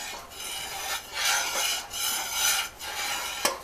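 Bubbling cherry jam in a pot is stirred with a spoon, giving repeated soft scraping sweeps in a slow rhythm, close and moderately loud, with a sharper knock near the end.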